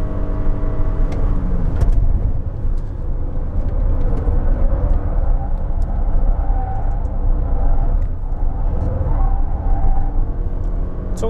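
A prototype Toyota RAV4 PHV plug-in hybrid SUV accelerating hard at high speed over a bridge, passing 160 km/h, with a loud, steady engine and road rumble filling the cabin throughout and no voices.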